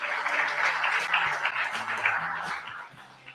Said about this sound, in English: let's give Jasmine a round of applause